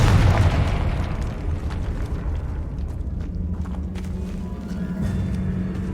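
A Confringo fire spell explodes in the video game Hogwarts Legacy, opening with a loud, deep blast that gives way to a sustained, rumbling roar for several seconds.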